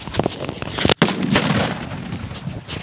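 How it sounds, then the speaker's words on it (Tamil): A jute bomb firecracker, a dangerous cracker being tested in a village, bursts with a sharp, loud blast about a second in, followed by crackling debris and ringing echoes. "சணல் குண்ட பத்த வச்சாச்சுப்பா"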